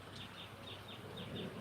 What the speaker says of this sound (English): I hear a lot of birds.